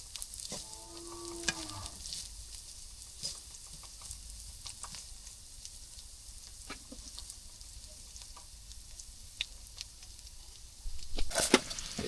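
Onions fry in a pan with a soft, steady sizzle, broken by scattered stirring clicks and scrapes, and a brief faint voice early on.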